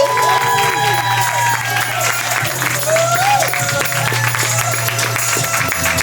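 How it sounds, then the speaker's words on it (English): A loud audience at a poetry event claps and cheers continuously while a poet walks to the stage, with shouts and whoops over dense applause and a host's voice calling out through the noise. "I want y'all to clap it up. Give all the energy"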